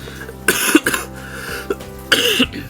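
Two bouts of harsh, raspy coughing, each a short cluster of hacking bursts, close up with a brief pause between them.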